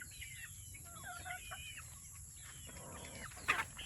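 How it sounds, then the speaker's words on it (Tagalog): Chickens cluck and call on a farm with tall grass, faint and somewhat distant, several short clucking bursts scattered over a low steady background hum. "Dami ng manok mga kabayan ah."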